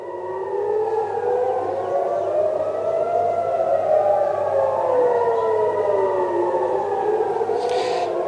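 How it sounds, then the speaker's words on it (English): Civil defense air raid sirens wail across Tel Aviv, several overlapping tones rising and falling steadily, loud and continuous for the whole stretch with no talking. "right now what you're hearing are sirens sounding across Tel Aviv."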